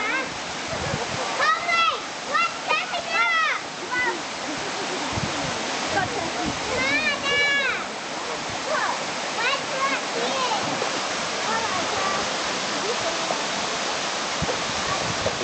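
A steady rushing waterfall on Ohau stream, where fur seal pups gather, pours continuously while high wavering cries and voices rise above the spray.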